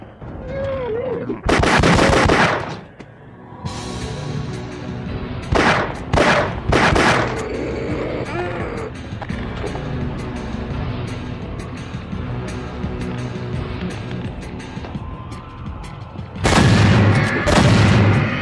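Shotgun blasts in HMS Defiance, a Source engine mod: loud, close booming shots come in bursts, one early, a quick cluster of three in the middle, and a final pair near the end, with ambient game sound between them.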